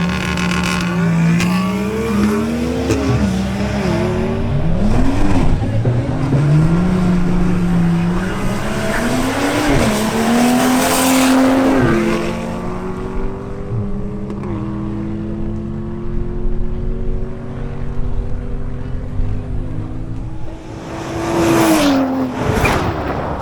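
A BMW M240i xDrive and an Audi S3 in a drag race duel, loud engines revving hard through rising gear pulls with shifts, fading briefly before another car screams past near the end.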